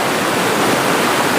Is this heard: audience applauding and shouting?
no